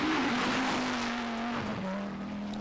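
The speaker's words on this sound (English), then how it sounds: "Number 22, Armin Schwartz in the Audi." Audi rally car on a 1989 Chatsworth special stage, a loud nearby engine note holding steady then dipping and rising again as it passes, with faint tyre noise underneath.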